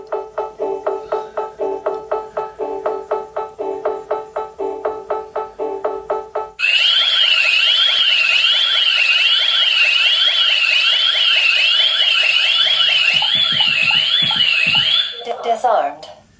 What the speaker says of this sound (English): Otherwise, the alarm will sound.